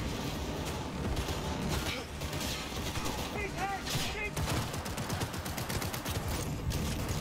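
Gunfire from an automatic weapon in a Cyberpunk 2077 firefight: a dense, continuous clatter of rapid shots and bursts, loud and close throughout, with small metallic effects layered in.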